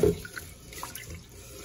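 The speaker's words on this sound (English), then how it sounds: "Put a little bit more water in it." Tap water runs into a Zojirushi NHS-18 rice cooker pot to rinse rice, a steady close splashing stream with a stronger gush at the start, no talking.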